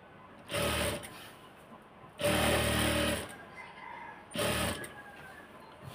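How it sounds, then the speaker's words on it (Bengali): Sewing machine stitching a salwar in three separate bursts of whirring, each about half a second to a second long, with quiet pauses between as the machine is stopped and started. "একটু মেশিনটা থামিয়ে থামিয়ে নিয়ে সেলাই করবেন"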